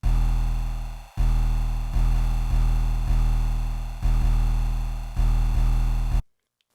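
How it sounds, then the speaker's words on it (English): Two layered 808 bass notes, one with its high end isolated, played together in FL Studio for a jerk beat, booming in a steady pattern of six sustained hits that fade between strikes, alone with no talk, ending in sudden silence. "I just isolated the high end in this second 808 and have the two 808s playing together"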